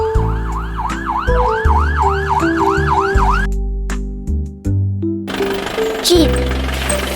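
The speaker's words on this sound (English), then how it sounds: "police car," Police car siren wailing in fast, repeated rising-and-falling sweeps for about three seconds, loud and close over an upbeat children's music track that carries on after it stops.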